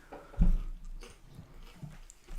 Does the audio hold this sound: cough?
no